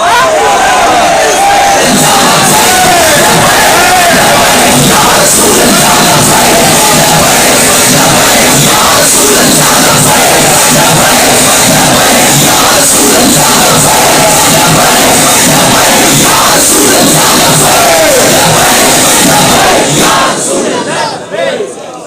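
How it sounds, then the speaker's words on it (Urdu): Large crowd of party workers at a political workers' convention in Sialkot, loudly chanting and yelling slogans in unison, a dense, sustained roar of voices that keeps going for about twenty seconds before fading at the end. "حضور کا نعرہ لگائیں"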